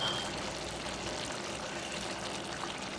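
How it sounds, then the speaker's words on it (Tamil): A steady stream of water pours continuously into a cooking pan of mutton pepper fry, a soft rushing trickle with no talking. "கொஞ்சம் தண்ணி சேர்த்துக்கலாம்."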